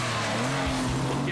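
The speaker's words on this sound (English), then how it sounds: "Gets away well, and some screech for show." A Porsche Cayman S launches on a race track, its tyres giving a brief, loud screech over a strong, steady engine roar.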